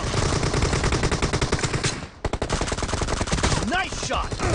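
Loud, dense automatic gunfire from a PUBG Mobile team deathmatch, sustained bursts of rapid shots with a brief pause midway, then more firing.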